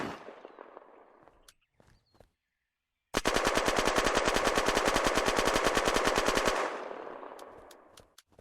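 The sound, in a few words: modded gunfire in the video game Unturned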